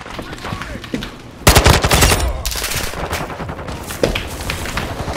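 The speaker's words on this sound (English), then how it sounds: "I spawned into a beam of bullets." Heavy automatic gunfire fills a Call of Duty Hardpoint match, with a sudden loud burst of rapid shots that continues densely, then a further sharp volley near the end.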